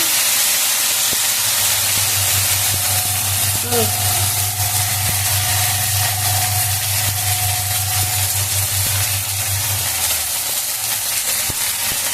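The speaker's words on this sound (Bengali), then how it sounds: "এবার আমি জিরে বাটাটা দিয়ে দিয়েছি, আদা বাটাটা দিয়ে দিয়েছি, দিয়ে একটু কষিয়ে নেব।" Ginger and cumin paste frying in hot oil in a pan, a steady broadband sizzle and hiss lasting throughout, with a low hum underneath and a person talking over it.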